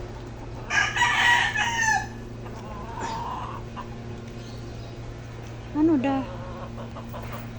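A rooster crows loudly and nearby, and a chicken clucks once more later in the clip, with occasional voices talking around it over a low steady hum.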